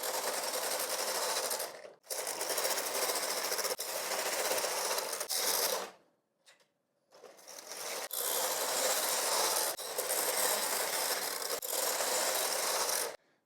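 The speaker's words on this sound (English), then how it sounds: "And now I start knitting 125 rows in color" A Brother 965i knitting machine knits Fair Isle rows in colour, its carriage rasping loudly across the bed in long sustained passes with brief pauses between rows.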